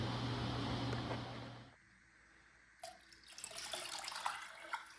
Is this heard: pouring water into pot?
yes